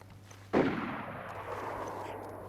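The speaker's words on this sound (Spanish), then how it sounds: "Ese disparo, aunque esté lejos, si te fijas, se encuentra a la misma altura." A single sharp gunshot in the video game DayZ cracks out and its echo rolls away over the following seconds, sounding distant and open-air.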